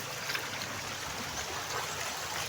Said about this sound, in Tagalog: kusog yung tubig